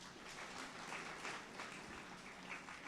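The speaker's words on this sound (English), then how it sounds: "Ebu, clap for yourselves." A crowd applauds steadily at an awards ceremony, with dense, even clapping that sounds somewhat distant and soft.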